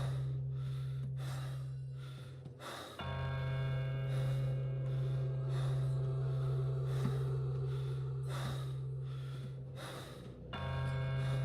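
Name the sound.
heavy breathing sound effect in Pathologic 2 video game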